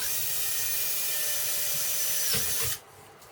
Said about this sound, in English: Drill a couple holes, guys.